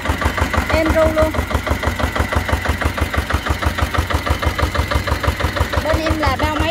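A 9 hp diesel engine on a C8R dumper cart idles close by, a steady rapid knocking chug with even rhythm throughout, brief voice-like tones faint in the background.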